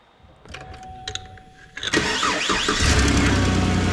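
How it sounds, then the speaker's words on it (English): Clicks and a brief starter whir, then a Chevy Silverado pickup engine catches and settles into a loud, steady rumble up close. "reconnecting the battery and then turning the truck on"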